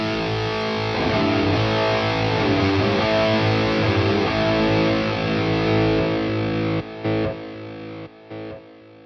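An electric guitar through a Headrush Prime multi-effects unit with tape echo and chorus on: a distorted chord rings for several seconds, then its echoing tail fades and breaks off in short drops.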